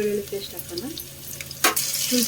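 Ginger garlic paste fries in a pan with a low sizzle and a few scattered stirring scrapes, then a sudden louder burst of hissing near the end as something hits the hot oil.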